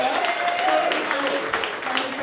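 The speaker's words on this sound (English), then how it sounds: "you can give those people a clap" An event audience claps for short film makers, a steady wash of applause with people talking over it.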